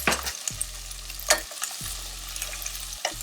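Boiled potatoes and green chilies sauté in a hot pan, giving a soft steady sizzle broken by a few scraping stirs, close and fairly quiet.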